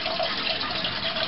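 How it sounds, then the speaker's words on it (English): Water drains from a toilet tank during a running-toilet repair, a steady close rushing and trickling flow heard alone without talk. "The next step is to drain the tank."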